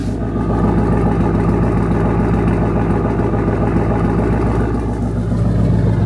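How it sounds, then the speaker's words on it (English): A loud, steady Ford Mustang exhaust at idle after an intake and throttle body swap: a deep rumbling burble with a regular pulsing rhythm, close to the tailpipe and unchanging throughout. "let me give you guys an exhaust sound"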